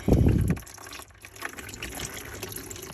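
Used oil drains from a New Holland LS190 skid steer, opening with a strong half-second gush of liquid that eases into a quieter steady trickle and dribble, heard close and alone.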